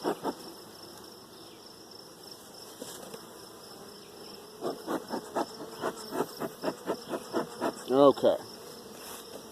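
Honey bees buzz in a hive, a faint steady hum that turns into a series of louder rhythmic bursts in the second half, with a single short word spoken partway through.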